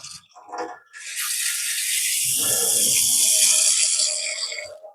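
Water gushes steadily from a newly installed kitchen sink mixer tap, starting with sputtering bursts of air before settling into a loud, continuous flow.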